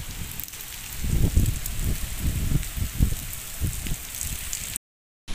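Heavy rain pours on a rooftop during a strong storm, with a constant hiss and repeated low, gusty rumbles of wind buffeting. It cuts to silence shortly before the end.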